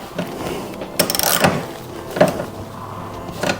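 A ratchet snugs down the bolts of Traxxion Dynamics grab rails on a 2024 DCT Honda Gold Wing, with close, crisp runs of clicking broken by a few sharper ticks.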